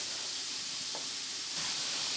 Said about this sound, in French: On va colorer aussi nos petits morceaux de poitrine pour tout à l'heure